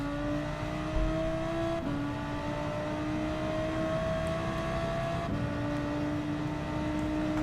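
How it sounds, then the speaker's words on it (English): Game car engine from Gran Turismo 7 holds a steady, fairly loud drone with rising pitch sweeps through each gear, broken by brief drops at shifts, continuous across the whole stretch with no talking. "I can hear your revs now."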